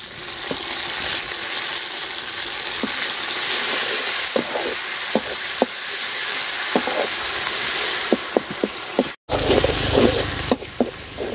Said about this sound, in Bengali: মশলাটা সুন্দর করে ভাজা নিছি